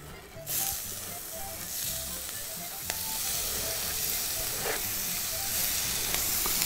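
Chopped onion dropped into a hot pan where chicken and spices were just cooked, bursting into a loud, continuous sizzle with a steady hiss and occasional crackles and stirring scrapes close to the microphone.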